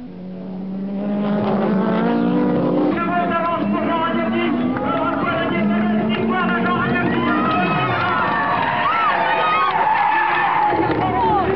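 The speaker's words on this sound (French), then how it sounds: "Jean Ragnotti se retrouve donc au volant d'une Renault 21 Turbo 4x4 et sur circuit" A Renault 21 Turbo 4x4 race car skids on a circuit, its engine and tyres producing a long sustained screech with shifting pitch, loud and close, while a crowd cheers in the background.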